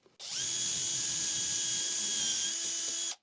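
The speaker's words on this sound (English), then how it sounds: "with a 5mm drill bit I can carry on drilling the hole" A power drill with a 5mm bit bores a hole in a workpiece for a circular saw jig, a single steady high whine that runs for about three seconds, close and alone.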